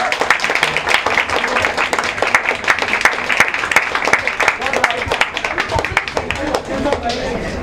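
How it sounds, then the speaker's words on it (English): Audience at an Amitabh Bachchan book launch applauding, a long busy stretch of many hands clapping loudly while voices call out through it. "I think I can give a big round of applause."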